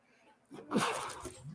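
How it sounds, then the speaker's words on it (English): A single person's sneeze, close and abrupt, a sharp burst that trails off, recorded indoors with a cat nearby. "Oh, I gotta sneeze."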